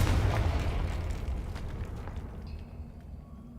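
A Confringo spell in Hogwarts Legacy detonates with a heavy, close boom that rumbles and slowly fades.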